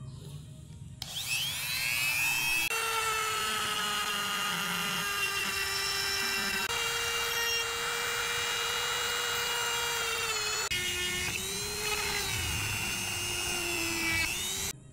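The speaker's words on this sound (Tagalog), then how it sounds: "Gamit tayo ng rotary tools natin." A rotary tool whines steadily at high pitch while trimming plastic for a motorcycle switch fitment on a Smash 115, running continuously near and loud with slight shifts in speed.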